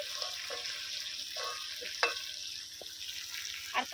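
Mutton curry with potatoes is stir-fried in a pan, giving a soft continuous sizzle with occasional scrapes and knocks of a spatula, fairly quiet and close, with no talking.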